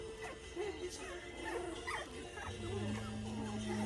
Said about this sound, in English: I hear somebody growling.